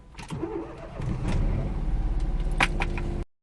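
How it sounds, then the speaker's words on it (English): A car engine cranks and turns over, then settles into a steady idle before cutting off abruptly. "Start the engine."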